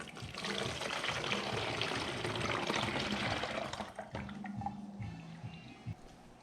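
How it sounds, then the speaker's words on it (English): A sugar solution with gelatin is poured into a bottle as a steady, fairly quiet liquid stream for about four seconds, followed by softer trickling and small clinks. "Just adding that sugar solution right now with the gelatin."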